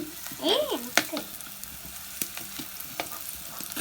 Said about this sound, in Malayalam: ഇത് ഉള്ളി വാട്ടുണ്ട്